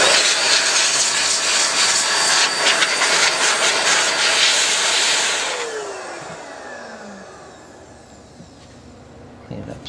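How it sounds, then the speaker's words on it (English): An air blower drying a 78 rpm record produces a loud, steady hissing rush that abruptly drops off midway and fades into a quieter, decaying whoosh with a faint descending whine. "you can always go over it again with the blower to dry it up a little bit"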